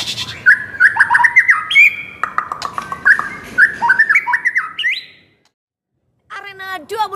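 A white-rumped shama (murai batu) songbird, a competition-trained bird, sings loud, close, varied whistles and rapid chirping trills, pauses in silence, then bursts into song again.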